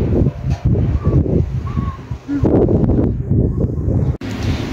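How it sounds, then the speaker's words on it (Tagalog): Strong wind roars across the sea by an island, a loud, continuous gusty rush with rough turbulent noise and possible waves beneath. "Ngayon nakakakita ka ng wave kasi mahangin siya."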